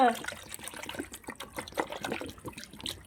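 Water pours and trickles into a container holding live fish brought home from the market, a steady splashing under a voice talking nearby.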